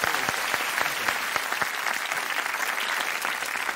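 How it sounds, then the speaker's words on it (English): A studio audience claps at a TV comedy game show taping, crisp individual hand claps merging into steady moderate applause that carries on alone. "let's give her a round of applause"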